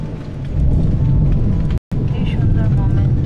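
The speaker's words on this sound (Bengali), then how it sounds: "মেঘ ডাকছে" Thunder rolling during a sudden light rain in hot weather, a deep continuous rumble with rain hiss, loud and close, broken by a brief dropout midway.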